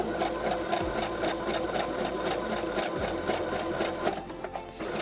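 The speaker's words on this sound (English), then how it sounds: "I'm going to put it on slow, and we are going to sew our button." A Brother sewing machine stitches a buttonhole slowly. It runs as a steady, close mechanical hum with an even rhythmic needle patter that eases off near the end. No voices.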